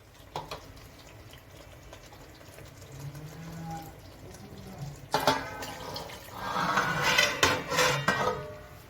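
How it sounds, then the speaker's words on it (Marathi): Hot water poured into a pan of smoky chicken gravy on a home stove gives a splashing, bubbling rush that builds over the last few seconds. Metal clinks and pan scrapes come before it, with no talk. "आता थोडं ग्रेव्हीसाठी मला हेच गरम झालेलं पाणी आता मी ह्याच्यात घालते, ॲड करते."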